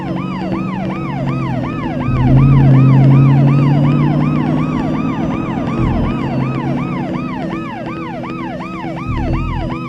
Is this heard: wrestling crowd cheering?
no